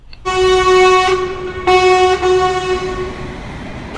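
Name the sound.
train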